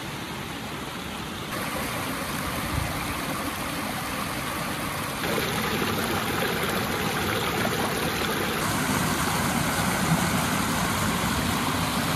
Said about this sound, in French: Attendez ce doux bruit de torrent là